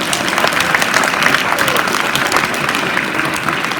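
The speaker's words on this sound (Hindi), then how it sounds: "तो इन बच्चों के लिए जोरदार तालियां बजाएंगे" At a National Sports Day celebration at a Kendriya Vidyalaya school, a large crowd applauds students with loud, steady, dense clapping throughout, with no gaps or talking.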